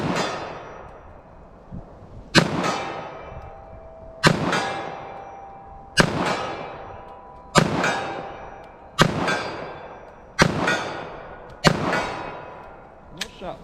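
Eight sharp revolver shots of .45 ACP Fiocchi Defense Dynamics rounds, fired at a 40-yard target, ring out at slow, fairly even intervals, each a loud close crack with a metallic ring decaying into the outdoor range.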